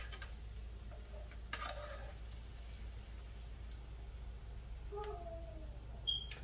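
Golden-brown onions fry quietly in oil in a pan as the last of them are lifted out, giving a faint, steady sizzle with a few soft scrapes and one sharper clink near the end.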